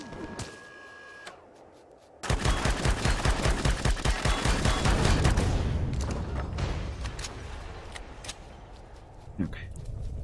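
Drones fire on the player in Empyrion Galactic Survival, a sudden loud burst of rapid repeated gunshots that runs for several seconds, then thins into scattered shots, with someone talking.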